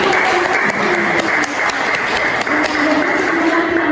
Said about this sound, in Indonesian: kita memberikan aplaus kepada saudari Nadia